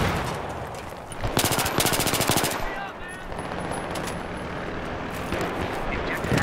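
Rapid automatic gunfire rattles through a video game firefight, with a dense burst of repeated shots early on followed by scattered shots under continuous background noise.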